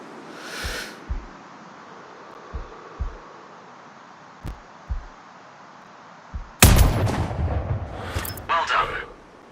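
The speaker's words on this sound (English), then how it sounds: "Now, shoot this target." A single loud sniper rifle shot in the video game Sniper Ghost Warrior Contracts, booming with a long ringing tail, preceded by a slow, soft thudding heartbeat while the shooter holds breath.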